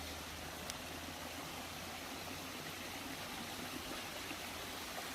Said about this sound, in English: more waterfall over there, guys